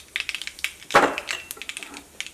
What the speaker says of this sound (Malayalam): അപ്പോൾ നമ്മുടെ കടുക് പൊട്ടി തുടങ്ങിയിട്ടുണ്ട്.